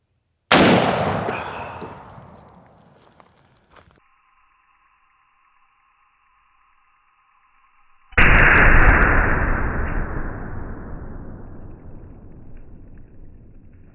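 Two loud, close rifle shots from a Henry X Model 45-70 fired outdoors, each a sharp blast with a long fading rumble, separated by several seconds of near silence with a faint steady tone.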